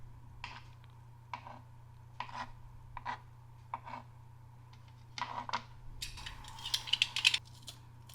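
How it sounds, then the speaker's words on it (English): A garlic clove is scraped into a square shape with soft, close rasping strokes repeated at a steady pace against a low background hum, building to a denser, brighter flurry of scraping near the end. "I've decided to pause and scrape my garlic into a nice little square shape"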